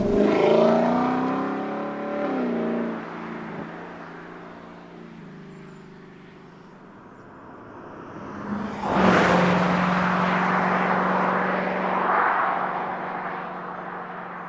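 A 2018 Lexus LC500 V8 coupe, exhaust baffles open, revs loudly and close with rising harmonic engine tones, eases off, then surges again into a second strong acceleration with a sustained throaty drone.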